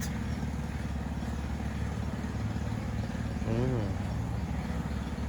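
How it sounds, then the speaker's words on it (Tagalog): Engines of vehicles on a nearby road outside a home on a hot, sunny day form a steady low rumble, with one engine briefly rising in pitch as it passes. "huni ng makina doon sa may karsada"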